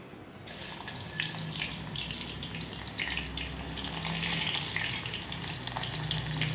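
Sliced onion frying in oil in a home kitchen pan, a steady broadband hiss of sizzling that holds at an even level throughout, close and continuous with no talk over it.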